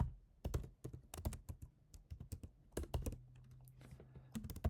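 Quick bursts of computer keystrokes, clustered and irregular, as someone types a network SSID name into a field; crisp, close clicks with brief pauses between runs.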